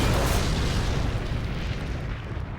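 A WWI tank from 1916 blowing up, heard as a loud, sustained, deep booming roar that fills the whole stretch with dense rumbling and fades slightly toward the end, with no voices.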